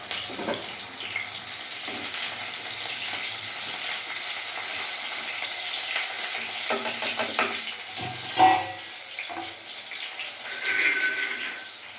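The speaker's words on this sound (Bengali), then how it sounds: "আমি এখন এখানে বেগুন কেটে রেখেছি বেগুনগুলো ভেজে নেবো" Cut eggplant pieces fry in hot oil, a steady close sizzle running throughout with occasional stirring scrapes and a few louder clatters, no voices.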